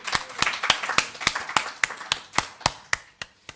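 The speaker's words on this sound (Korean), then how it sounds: "우리 그 하나님께 우리 예수님께 감사와 찬양의 박수 올려드리겠습니다" A church congregation at a Wednesday service claps in praise to God, a steady run of sharp, evenly spaced handclaps that thin out toward the end.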